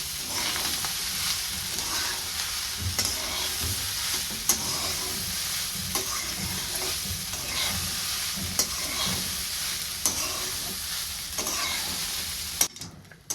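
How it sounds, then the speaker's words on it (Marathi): Poha being stirred and mixed in a kadai after salt goes in: continuous close sizzling under a regular rhythm of spatula scrapes and soft knocks against the pan, with no voices. "छान असे पोहे मिक्स करून घेते"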